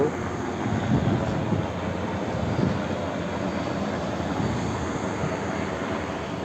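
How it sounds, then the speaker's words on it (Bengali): A steady engine drone of a helicopter passing overhead near an Indonesian beach, constant and moderately loud throughout with no talking. "হেলিকপ্টার যাচ্ছে, দেখা যাচ্ছে হেলিকপ্টার যাচ্ছে"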